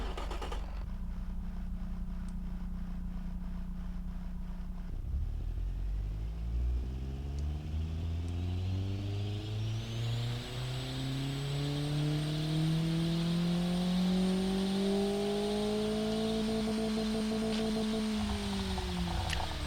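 A car engine on a 2.5 inch exhaust with the muffler bypassed revs up in one long, loud, rising sweep from a low idle rumble to a high roar. The engine holds near the top for a moment before the throttle drops off sharply.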